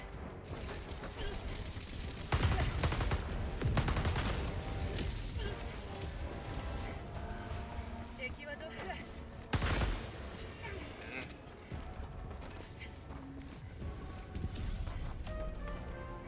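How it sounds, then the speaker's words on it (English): Gatling gun fire in a video game, loud sustained rattling bursts mixed into dense game noise, with sharper blasts near the start and middle and a voice talking over it. "Thank God I still have one of my fucking Gatlings."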